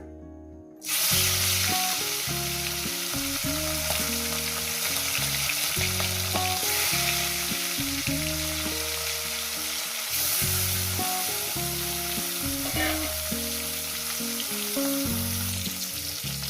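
Mrigal fish fries in hot oil with a loud, continuous sizzle that starts abruptly and holds steady, broken by rhythmic scraping and clattering stirs from a spatula; no voices.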